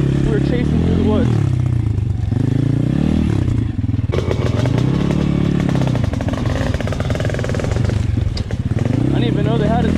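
An Apollo RFZ dirt bike rides hard through the woods chasing a Honda CR500 two-stroke, its engine loud and close with repeated rises and falls in pitch as the throttle opens and closes, with clatter and thumps from rough ground.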